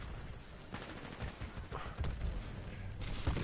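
Dense gunfire in Titanfall 2, rapid bursts and low thuds rattling continuously and fairly loud through the whole stretch.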